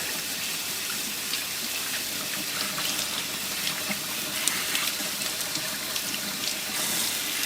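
Scallions are rinsed under a running kitchen tap, a steady close hiss of flowing water that continues evenly throughout with faint splashing changes and no talking.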